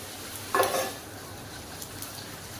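Oil hisses on a hot pan under a Madurai-style chicken curry dosa, a soft steady sizzle with one brief, louder flare of crackling and light utensil contact near the start, then fading back to a low, quiet fry.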